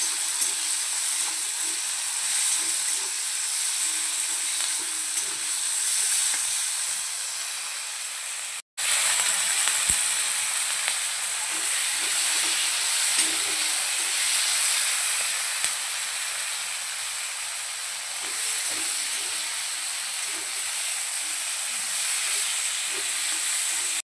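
Capsicum and paneer masala fries steadily in a pan, a loud continuous hiss and sizzle close by that breaks off briefly partway through and then resumes.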